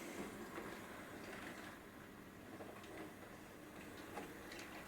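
A Hornby Stanier Black 5 model locomotive with tender running along its track, a steady faint whirring rumble with soft rhythmic ticking from the wheels, continuous and even.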